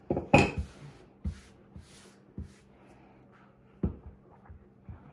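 Egg noodle dough being rolled on a floured counter with a rolling pin for homemade chicken noodle soup, giving a few soft, separate thuds and knocks of wood on the work surface, near and fairly quiet, without any talk.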